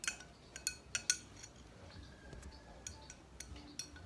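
A spoon clinks against a glass while a drink is mixed, giving a series of bright, irregular taps that are close and clear over a quiet background, with no one talking.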